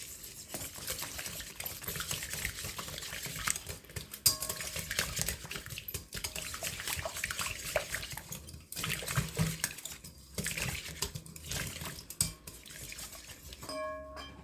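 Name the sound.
mixing powdered sugar in a bowl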